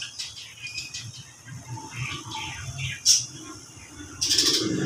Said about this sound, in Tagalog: Ayun, may birds po doon.